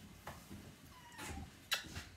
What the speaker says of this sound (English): I have a kitten getting into trouble.